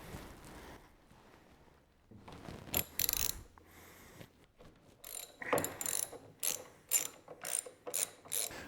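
Hand ratchet loosening bolts that hold a motorcycle foot peg to the frame, close and fairly quiet, its rapid pawl clicking in several short bursts with brief pauses between strokes.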